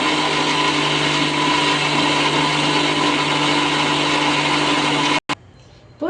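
Mixer grinder whirring loudly and steadily as it grinds coriander chutney, a constant motor drone for about five seconds before it cuts off abruptly, leaving a quieter rattle and hum.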